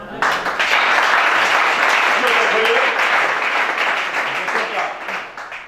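A church congregation at a deliverance service applauds loudly and continuously, dense close clapping filling the space and fading slightly toward the end, with crowd voices mixed in.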